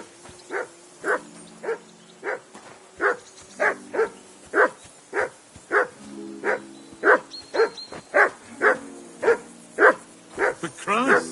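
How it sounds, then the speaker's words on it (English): Dog barking repeatedly in the medieval video game Kingdom Come, a steady series of loud, evenly spaced barks close by, with growly undertones and a few overlapping tones between barks. "Call off that damn dog before he wolfs down the last of our mates."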